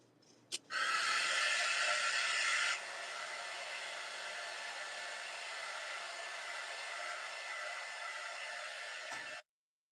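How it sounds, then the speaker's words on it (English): A hair dryer blows on mixed media artwork, a loud close hiss that switches on after a click, drops to a softer steady whoosh partway through, then cuts off abruptly. "Dryer time again."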